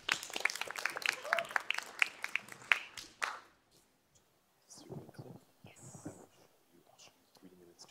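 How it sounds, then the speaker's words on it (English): Applause from a lecture audience at a design talk: a burst of close, scattered clapping for about three seconds that quickly dies away, followed by quieter speech and light movement. "Let's have a round of applause for Herrera"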